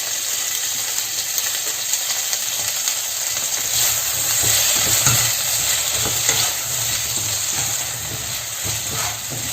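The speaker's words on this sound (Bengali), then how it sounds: "ক্যাপসিকামগুলোকে একটু আমি হালকা করে ভেজে নেব" Chopped capsicum fries lightly in a pan with salt, making a steady, close sizzle with bursts of stirring and scraping throughout.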